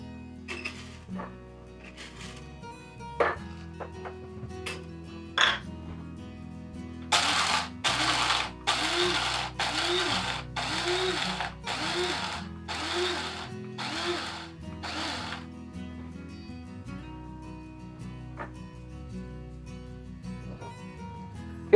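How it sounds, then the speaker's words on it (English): An electric grinder grinds a large batch of coffee beans in a kitchen in a series of about eight short pulsed whirring bursts. Each burst lasts under a second and is set between quieter clinks and handling sounds. "I'm going to grind quite a few beans, and then I'm going to pull from that"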